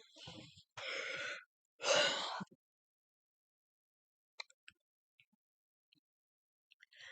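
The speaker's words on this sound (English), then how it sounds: "Hang on, I keep yawning." Three drawn-out breathy yawns in quick succession, close and soft, followed by near silence with a few faint clicks.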